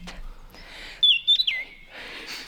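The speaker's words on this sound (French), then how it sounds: "On entend l'oiseau" Bird chirping in a meadow at the end of the day, a brief burst of clear, high whistled chirps and twitters in the middle, with soft outdoor ambience before and after.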